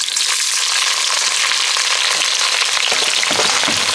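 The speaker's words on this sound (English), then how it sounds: "So I'm gonna start with my onions," Onions fry in oil in a pan for a chicken biryani, a loud, dense, continuous close-up sizzle with no pauses or talk.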